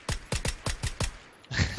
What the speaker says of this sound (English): Shoot him with my VSS.